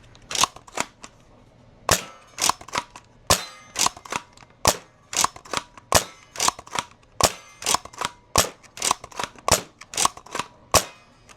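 A Nerf dart blaster with a 40 Max 18-round slim short dart magazine fires Pro and Nitro Shot Plus darts in a long string of sharp, loud snapping shots, spaced roughly half a second apart with a few brief pauses.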